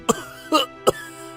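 An old man coughs hard three times in quick succession, close and clear, with short pauses between.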